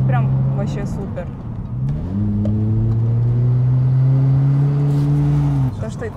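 A Kia Cerato 2.0 with a universal aftermarket exhaust pulls away, its deep exhaust drone climbing in pitch and holding loud and close before dropping off near the end, with a voice briefly heard under it.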